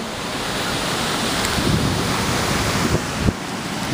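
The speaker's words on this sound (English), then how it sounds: "Gotta love the beach." Ocean surf rolls onto a sunset beach in a continuous wash of waves, with wind buffeting the microphone and a few louder gusts near the end.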